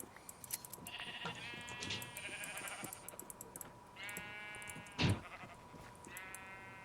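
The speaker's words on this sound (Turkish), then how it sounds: "Sevdim ben bu koyunları ya bana iyi yün vermiyorlar." Several sheep bleat in a repeating chorus in Minecraft over a faint steady background hum, with a brief louder knock midway.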